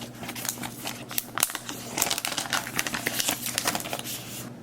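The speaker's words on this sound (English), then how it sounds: "Take it out of the plastic." A new HTC Flyer 7-inch tablet is pulled out of its plastic film, giving continuous close crinkling and rustling with sharp crackles throughout and no speech.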